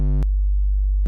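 A synthesized sine wave with added overtones plays in Bitwig as a bright harmonic-rich tone, then drops briefly to a low, nearly pure sustained hum before the rich tone returns.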